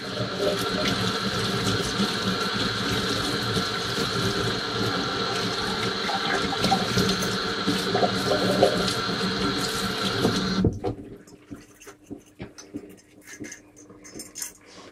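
Running water rinses out a hookah for about ten seconds in a loud, steady gushing rush, then cuts off, leaving scattered drips and small knocks.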